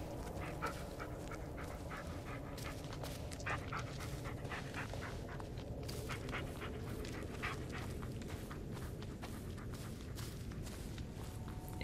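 A dog pants steadily and close in the Blair Witch video game, a continuous breathy rhythm with light footsteps mixed in throughout.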